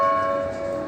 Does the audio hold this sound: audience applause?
no